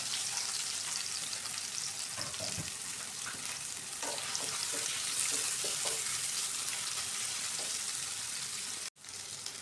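Onions sizzle and crackle steadily in a hot pan as they fry to golden brown, with occasional soft stirring clinks and a brief break near the end.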